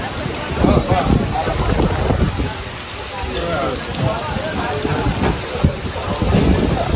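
Heavy monsoon rain pours down steadily with gusting wind near a station in Jamnagar, a dense roar that swells and eases throughout, with low rumbles mixed in.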